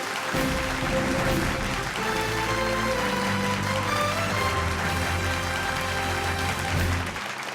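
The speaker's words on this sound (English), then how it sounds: "Everyone, big round of applause." At a hospital awards ceremony, the crowd applauds an award winner while loud music with a steady beat plays throughout, the clapping blending into the continuous music at near-constant volume.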